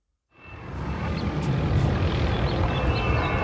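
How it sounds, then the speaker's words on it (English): A helicopter patrolling over a beach rises out of silence into a steady, loud broadband roar of rotor and engine noise that holds constant and close overhead, with no talking. "there were helicopters patrolling the beach, ordering people to go inside"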